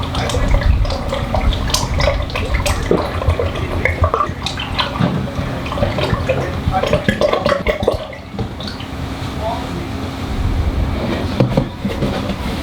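Motor oil pours into a Toyota FJ Cruiser engine, a steady liquid gurgle running close and fairly loud for the whole stretch, with small clanks and bumps scattered through it.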